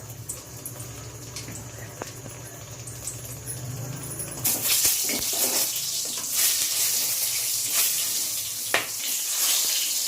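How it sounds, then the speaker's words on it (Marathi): Tomatoes frying in hot oil in a kadhai: a soft, steady hiss rises after a quieter start with a low hum, then becomes a loud, continuous sizzle with scattered crackles and pops to the end. "कढईमध्ये तेल तापायला ठेवलेलं आहे. याच्यात टमाटे अशी तेलात भाजून घ्यायची."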